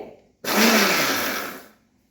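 A mixer grinder pulses once to grind boondi coarsely for motichoor modak: a sudden loud, steady whirring roar runs for about a second and a half, then cuts off, leaving quiet.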